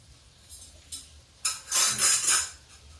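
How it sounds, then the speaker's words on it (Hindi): Ladle scraped and tapped against a cooking pot while making pea nimona, giving metallic clinks and scraping, with a few light knocks first and then a louder burst of scraping close by. "अब ये कलछुल हम साफ कर लेंगे"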